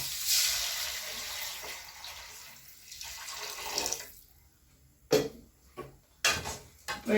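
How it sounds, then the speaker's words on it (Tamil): Water splashes from a pot into a pan of small-leaf spinach (sirukeerai) soup, a steady rushing pour in the first seconds, then quieter with a few sharp clinks and splashes near the end. "இப்போ ஒரு சொம்பு தண்ணி ஊற்றி வச்சிடலாங்க"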